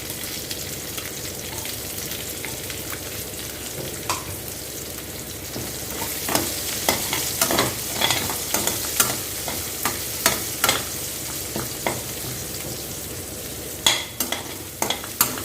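Steady sizzling of fennel seeds and onion frying in hot oil, with occasional stirring clinks and scrapes scattered through; no talking.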